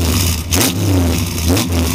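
Pontiac GTO V8 running loud and close, its engine rising and falling through a couple of rev blips over a rough, throaty idle.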